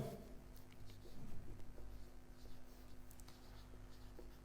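A teacher's marker scratches across a board while working a physics numerical, soft irregular strokes in short bursts over a quiet room hum, with no talking.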